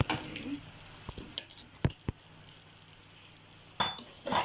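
A spoon stirs sugar into browned, ghee-rich halwa in a pan, with soft scraping, a few sharp metallic knocks against the pan, and a faint sizzle underneath, heard without talking.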